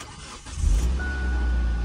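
A Honda mini truck engine cranks briefly and catches at an auction yard, the starter's short whir giving way to a low, steady idle that settles in close by.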